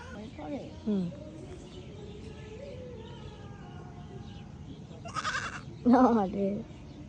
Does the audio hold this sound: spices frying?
no